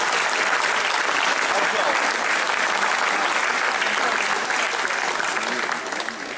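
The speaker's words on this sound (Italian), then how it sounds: "Annunciamo con un caloroso applauso" A large crowd at an outdoor band competition gives the conductor of a wind band sustained, dense applause, loud and even throughout before easing slightly at the end.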